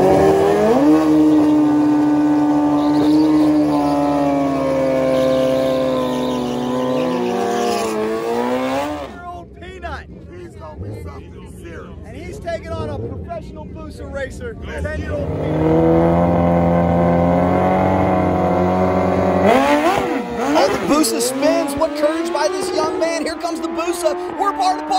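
A nitrous drag bike in an adult grudge-class drag race, ridden by a ten-year-old, revs and accelerates loudly with rising engine tones, then a rougher, noisier stretch midway before the engine climbs again.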